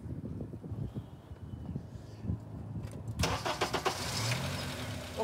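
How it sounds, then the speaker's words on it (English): A car engine cranks and catches, starting abruptly partway through with a loud broadband burst that settles into a steady running roar, preceded by quieter low rumbling and background noise. "I will shut the scope off, and then we'll start the car"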